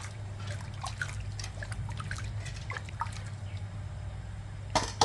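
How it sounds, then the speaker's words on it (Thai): Fish kidney paste being poured into a pot of Thai coconut curry, a soft, faint trickle and drip of thick liquid lasting several seconds, with a brief clatter at the end. "ใส่ไตปลาลงไป ใส่ไปให้หมดเลยค่ะ"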